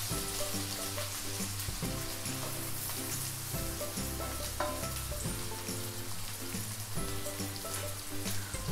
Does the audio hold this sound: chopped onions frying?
yes